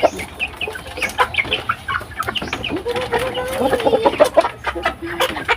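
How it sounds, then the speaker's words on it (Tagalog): Farm chickens being fed cluck busily and close up in a steady stream of short calls, while a person talks now and then in the background. "kain tayo ng ating mga manok"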